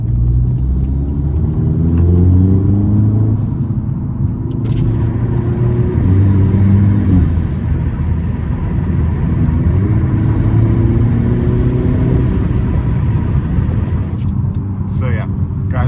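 A Hyundai Elantra N fitted with a Titanium Whoosh Motorsports V2 titanium intake revs hard, its deep rumbling engine tone rising and falling in repeated pulls, loud and close, with a voice talking intermittently over it.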